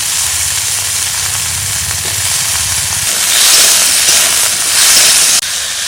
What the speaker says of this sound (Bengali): কড়াই গরম হয়ে গেছে, সামান্য একটু তেল দিচ্ছি আগে।